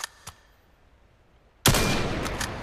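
Gun firing in the VR game Vail: after two faint clicks, a loud sustained burst of rapid shots starts abruptly and carries on to the end, close and forceful.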